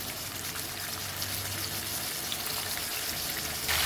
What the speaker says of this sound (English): First fry this nicely up and down.